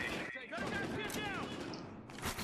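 Rapid bursts of gunfire from the video game Battlefield Hardline, Conquest mode on the Code Blue map, crackle under someone talking over the action.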